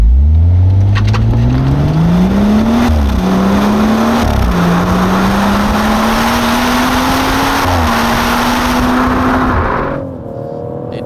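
A BMW M140i Shadow Edition accelerates hard with the rear wheels spinning, a loud close engine note climbing through gears with brief dips at shifts, then easing off near the end.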